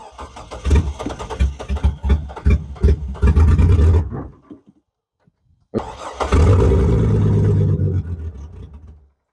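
An old car's two-stroke engine running on mix fires and sputters loudly up close, cuts out into near silence, then catches again and runs steadily before dying away.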